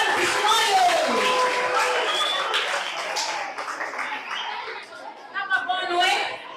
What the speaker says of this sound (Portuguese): Uma forte salva de palmas para os nossos meninos da Escola Moano Leopoldo Biscoio.